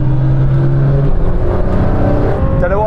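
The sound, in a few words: Porsche 911 Turbo S, Audi R8, Nissan GTR accelerating in drag race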